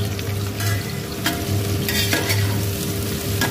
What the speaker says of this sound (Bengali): পেঁয়াজটা একটু ব্রাউন কালার মতো করে আমি ভেজে নেব